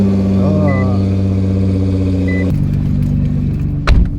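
Widebody Nissan GTR cold starting: a steady whine and low rumble, then a sudden change halfway as the engine catches into a deeper, rougher idle with a brief louder burst near the end, heard close.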